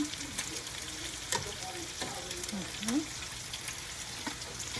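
Jumbo shrimp frying in a pan as they are turned over with tongs, a steady low sizzle with a few scraping clicks from the tongs, heard close up.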